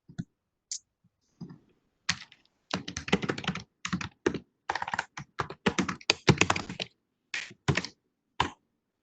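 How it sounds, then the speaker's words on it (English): Typing on a computer keyboard during an online meeting: bursts of close, crisp key clicks in uneven runs with short pauses, and no talking. "Somebody who's typing is muted."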